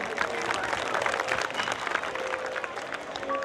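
Moderately distant applause from an audience at a community prize-distribution gathering welcomes the organisers, a steady rolling clatter of many hands with faint sounds beneath.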